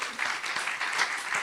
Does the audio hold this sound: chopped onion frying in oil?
no